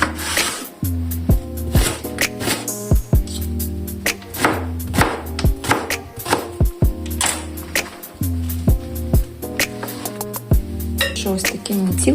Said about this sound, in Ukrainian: Так само нарізаю баклажан.